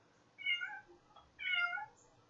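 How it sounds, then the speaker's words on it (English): A domestic cat meows twice, excited by another cat outside; the two drawn-out, rising calls are fairly faint and sound as if they come from the background of a quiet room. "That's my cat in the background."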